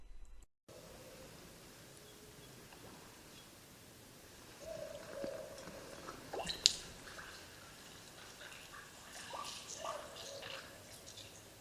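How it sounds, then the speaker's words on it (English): Faint, sparse drips and small splashes falling back into a creek off something walking through it, over a low outdoor hiss, a few soft plops clustered in the middle. "you can hear the water droplets falling back off its body into the water"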